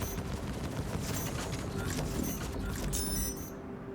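Turret gunfire from a Hammerhead corvette in Star Citizen, turret fitted with four size 4 distortion weapons: a dense, steady rapid stream of mechanical shots and clatter, loud and continuous, cutting off just before the end.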